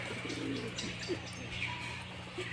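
Madras pigeons cooing softly in a loft, low repeated coos close by over a steady background hum, with faint chirps scattered through.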